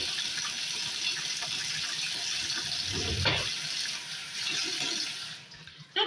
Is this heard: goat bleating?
no